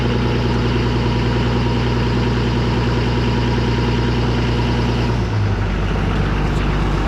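A tractor engine idles in a steady, loud, close rumble that runs unbroken, with a slight drop in pitch near the end and no voices.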